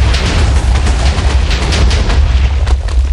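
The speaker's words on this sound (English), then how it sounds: "Yep, that's an airstrike." Airstrike explosions in the Minecraft Mineverse Infection game, a dense, continuous barrage of loud booming blasts rolling together without a break.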